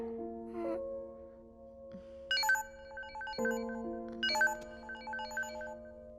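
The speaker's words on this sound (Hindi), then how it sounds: "संजय का कॉल है मैम।" A phone rings with an incoming call, playing a melodic ringtone in repeated bright tonal phrases at moderate volume indoors, with no talk.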